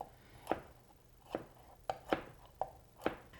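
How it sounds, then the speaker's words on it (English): A knife slicing through a vegetable on a cutting board, with six crisp, separate cuts at uneven intervals, near but quiet, with no voices. "begin to slice it the way you want to"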